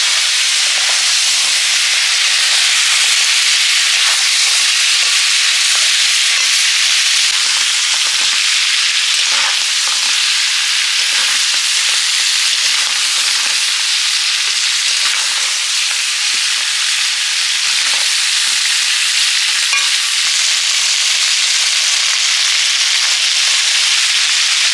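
Crabs fry in a pan with a loud, steady sizzle and hiss that carries on unbroken for the whole stretch, with occasional crackles and spits over the top.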